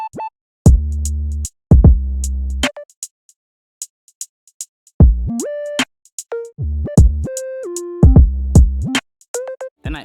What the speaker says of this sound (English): Together with the other 808, they sound like this.